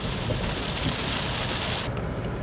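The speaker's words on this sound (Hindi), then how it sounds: "वाओ, क्या बारिश हो रही है यार।" Heavy rain pours steadily in Sri Lanka on the road between Ella and Galle, a dense, continuous hiss with low rumbling underneath that holds constant before abruptly thinning near the end.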